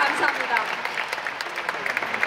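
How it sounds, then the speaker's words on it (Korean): An audience applauds at a company farewell address, a dense patter of many hands clapping continuously at moderate volume, with a voice speaking briefly over the clapping. "다시 한번 큰 박수 보내주시기 바랍니다"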